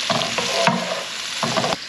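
Onions fry in a pan as the base for Southern fried cabbage, with a steady sizzle broken by a few scraping stirring strokes, close and fairly quiet, with no voices.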